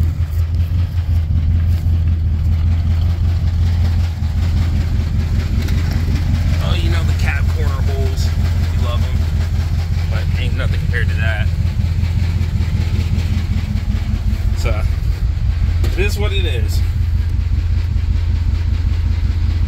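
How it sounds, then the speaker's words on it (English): A 1969 Chevy truck engine with mufflers in need of repair idles at about 650 rpm, giving a steady, loud low rumble throughout while people talk intermittently over it. "She's idling just about, yeah, it's about 650."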